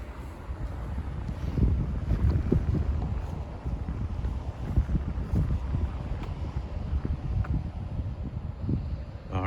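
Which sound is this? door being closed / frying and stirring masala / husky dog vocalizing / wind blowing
wind blowing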